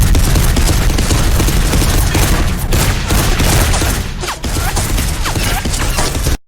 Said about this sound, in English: Just bullets are just pinging off their armor